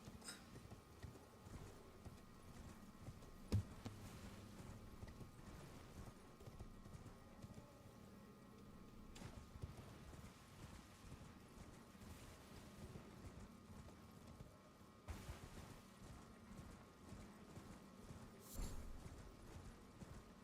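Horse hooves clip-clop in a video game, a faint, steady rhythm of footfalls running continuously under low background game sounds, with a few brief louder knocks.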